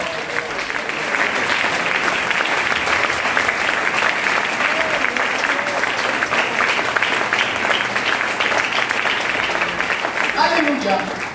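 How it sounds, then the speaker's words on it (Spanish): Congregation applause at a church service, a dense sustained wash of many hands clapping for about ten seconds, loud and steady, with a few brief voices rising near the end. "Denle ese aplauso a Él, por favor"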